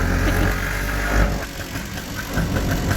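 An auto rickshaw engine runs steadily and close by, a loud continuous rumble with a slight dip in the middle of the ride.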